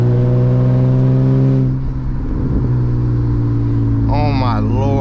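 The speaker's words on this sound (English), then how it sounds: "This car sounds so crazy." Manual BMW E36 driven through hill roads, its engine droning loud and steady with strong low harmonics, a brief lift-off dip, then revs climbing and falling again near the end while a voice talks briefly over it.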